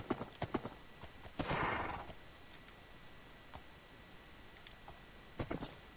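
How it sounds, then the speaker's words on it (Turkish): A donkey plods along in the Minecraft video game. Faint clip-clop hoof taps come in loose clusters with a short rustling burst between them, set against low game background noise. "Şimdi eşek yavaş gidiyor."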